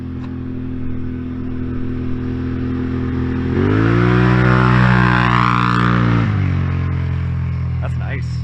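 Off-road vehicle fitted with an aftermarket MBRP or RJWC exhaust idling with a deep rumble, then blipped into a loud, rising rev that holds for a couple of seconds before falling back to idle, heard close up.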